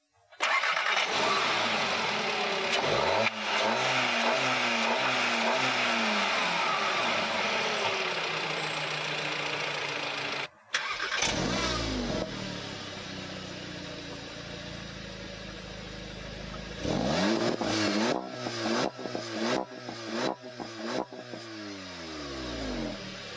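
Seat Leon Cupra 280 with a 2.0 TSI engine revs hard under load while driving, a loud sustained engine roar with rising and falling pitch, a brief break, then repeated sharp throttle blips near the end.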